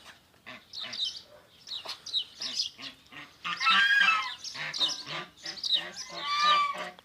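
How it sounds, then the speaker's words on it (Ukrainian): Farmyard muscovy ducks and geese calling over and over, a mix of honking and quacking voices overlapping in a busy, close chorus. "Розділилися індокачки тут, гуси біля відра."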